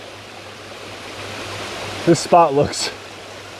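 A waterfall along an abandoned Erie rail line trail pours with a steady, moderately distant hiss, continuing under a man's brief speech near the end.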